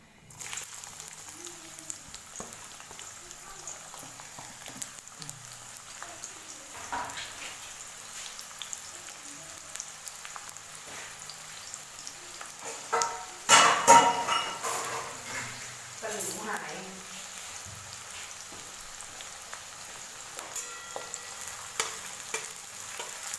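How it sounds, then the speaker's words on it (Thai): Shallots sizzle and crackle steadily in hot oil, with stirring scrapes and a louder burst of frying midway; faint talk is heard in the background. "อันนี้เป็นหอมแดงนะคะ ซอยเป็นชิ้นบางๆ เราไปเจียวกันค่ะ"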